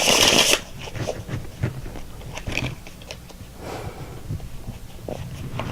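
Tarot cards shuffled up close, a loud riffle at the start followed by softer rustling, sliding and light tapping of the cards.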